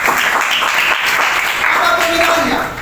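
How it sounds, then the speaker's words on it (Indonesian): Applause from a classroom of physics students, a dense broadband patter filling the whole stretch at steady loudness, with faint voices mixed in beneath it. "dulu tepuk tangan untuk kita"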